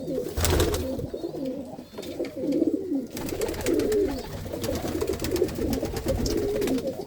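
Pigeons coo continuously in low, throaty bubbling calls from a flock of fancy flying pigeons kept as a hobby, close and loud, with a brief thump of movement early on.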